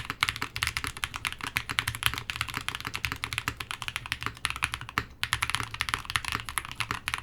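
Rapid, steady typing on a TKD Cycle7 mechanical keyboard fitted with case foam, dense clicky keystrokes following one another with a brief pause near the end and no voices.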